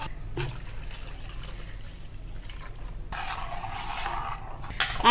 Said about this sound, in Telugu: ఇందులోకి ఇంకా నీళ్ళు పడతాయి ఇందులోకి